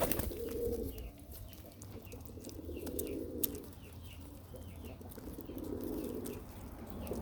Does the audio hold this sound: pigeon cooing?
yes